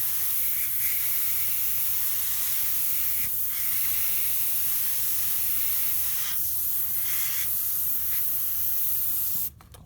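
Continuous steady hiss of an airbrush spraying paint while shading a shark painting, loud and unbroken for nearly the whole stretch, cutting off abruptly at the very end.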